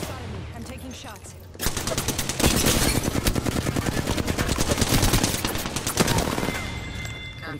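Rapid video game gunfire rattles out in sustained automatic bursts after a quieter opening second, loud and close, then tapers off near the end.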